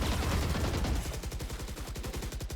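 Rapid automatic gunfire in a shooter video game, loud and close, with an evenly spaced burst of shots repeating steadily through the stretch.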